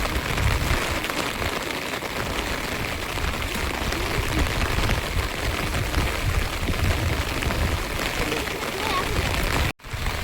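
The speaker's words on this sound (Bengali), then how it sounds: "অসাধারণ দেখায় কিন্তু আমাদের বাড়ির এখানে বৃষ্টি হলে।" Rain falls around a village house in open country, a dense, steady hiss of drops on surfaces, close and loud for the whole stretch before a brief dip at the end.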